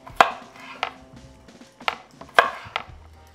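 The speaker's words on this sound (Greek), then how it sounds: "Κόβω τις πατάτες 1 λεπτό σε μικρά κομμάτια" Potatoes are chopped into small pieces on a cutting board, with a knife striking in sharp, uneven knocks about every half second, close and distinct in a quiet kitchen.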